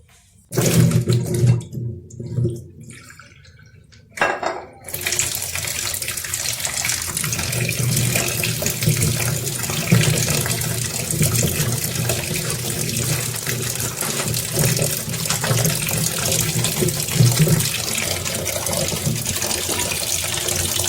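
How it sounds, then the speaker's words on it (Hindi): Mangoes being washed under a running tap for pickle making: a loud, continuous rush of water into a sink, briefly interrupted near the start, then steady to the end. "मैंगो को धो लेंगे अच्छी से"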